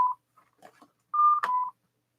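A mobile phone sounds electronic beeps: a short tone at the start, faint blips, then a steady beep of about half a second broken by a brief burst, alone with no talk.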